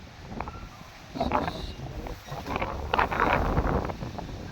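Gusty typhoon wind buffets the microphone, rising into stronger rushing bursts in the second half, with faint background noise beneath.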